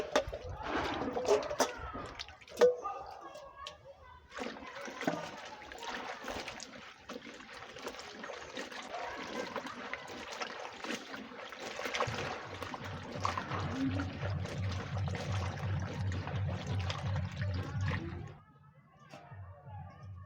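Chopped taro leaves (kachu shak) are washed by hand in water, with splashing, trickling and sloshing that stay fairly faint. Someone talks now and then, and a low hum fills the last few seconds.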